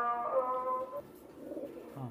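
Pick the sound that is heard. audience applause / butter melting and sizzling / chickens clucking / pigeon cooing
pigeon cooing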